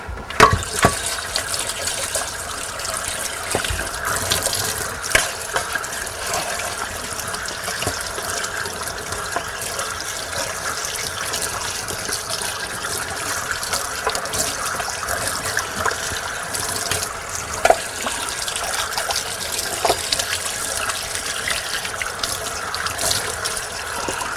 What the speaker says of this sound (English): Go rinse this guy off.